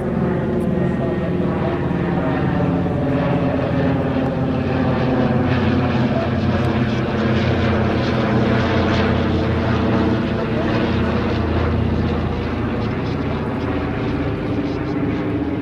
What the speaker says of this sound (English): let's enjoy and watch this fantastic C-47 DAC